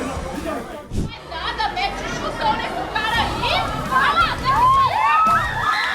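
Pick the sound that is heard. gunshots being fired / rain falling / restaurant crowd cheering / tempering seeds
restaurant crowd cheering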